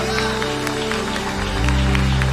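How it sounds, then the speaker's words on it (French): Applause from a church congregation during a sermon and prayer service, a dense steady clapping that swells toward the end, with voices beneath. "Dans l'Éternel, un bel applaudissement."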